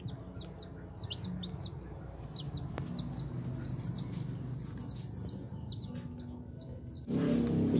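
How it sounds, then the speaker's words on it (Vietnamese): Soft, high peeping from small junglefowl chicks hatched in an incubator, repeated in quick bursts over a low rumble, with a noisier shuffle near the end. "Đây các bạn, đúng gà rừng này."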